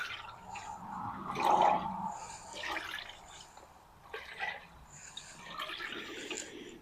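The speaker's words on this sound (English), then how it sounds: "So just kind of swishing it back and forth" Diesel fuel swished back and forth inside the removed oil pan of a 1926 Oakland car, giving a close, uneven liquid sloshing in several surging waves with quieter gaps between them.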